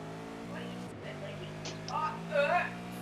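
Race car engine drones steadily in the iRacing sim racing game during a V8 Vets league race, with a brief shift dip and rising revs toward the end, heard under quiet background talk.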